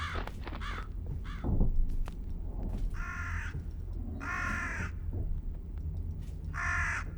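PC horror game Jisatsu: a crow caws in short harsh bursts, some quick and clipped, others longer and drawn out, over a low ambient hum with a few soft thuds.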